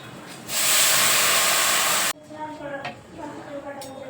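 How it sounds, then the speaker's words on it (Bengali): Water is poured into a hot pot of rice with bay leaves, raisins and cashews, giving a loud, steady rushing hiss for about a second and a half that stops abruptly, followed by quieter clinks and sizzling. "এবার আমি জল দিয়ে দেবো।"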